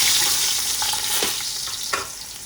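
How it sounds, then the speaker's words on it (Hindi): Onions browning in a pot give off a steady, close sizzle that fills the clip with a constant hiss, plus a couple of brief clinks or stirs partway through. "मैंने प्याज रख दिए हैं ब्राउन करने के लिए"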